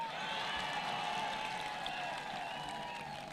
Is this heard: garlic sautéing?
no